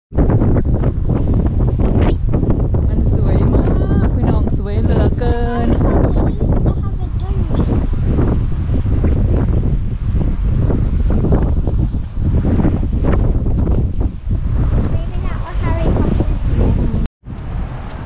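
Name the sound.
wind blowing at Bamburgh Castle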